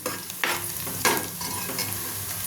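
Onions fry in a pan for an Andhra-style fish and raw mango curry. An even sizzle runs under a few sharp scraping stir strokes, close and clear, with no voices.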